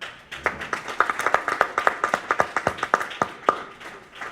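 A small group clapping for a student speech at an intergenerational closing ceremony; distinct, fairly sparse claps in a quick irregular rhythm, close and clear.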